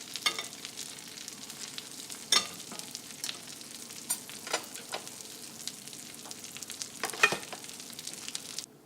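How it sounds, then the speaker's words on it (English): Steak and butter sizzle steadily in a hot pan, a dense bright crackle with irregular louder pops and spits throughout, close and without any talking. "put on a plate with hot sizzling butter"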